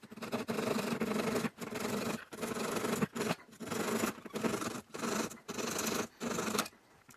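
A hand saw cutting off the end of a 3/8 inch wooden dowel, heard as close, steady rasping strokes in about eight bursts with brief pauses between them and no talking.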